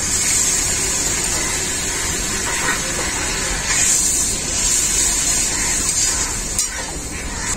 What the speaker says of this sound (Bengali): টমেটো, পেঁয়াজ আর মশলাটাকে খুব ভালো করে কষিয়ে নেব।